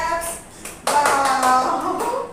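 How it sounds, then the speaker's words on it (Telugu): Several people clap in a quick, uneven rhythm for a child named Lucky after a turn at a hopscotch hand-and-feet floor mat game, while a voice cheers over the claps. "Claps claps లక్కీకి claps."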